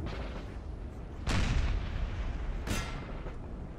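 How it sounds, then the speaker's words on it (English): Artillery in the video game Napoleon Total War firing on a battlefield, two heavy booming shots over a dull background rumble, moderately distant. "my artillery can just start shooting at them."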